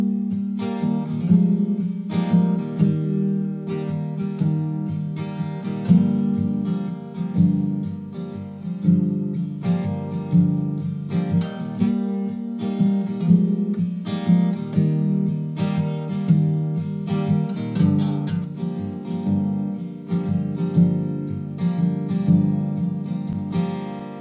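Bridge of a song played on guitar, chords strummed steadily in a repeating rhythm, close and clear with no talking over it.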